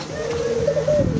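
Pigeons cooing in a coop in Jamaica, a close, throaty repeated coo rising and falling over a faint background murmur.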